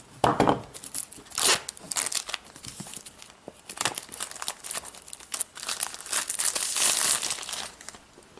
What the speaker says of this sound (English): let's just get this plastic off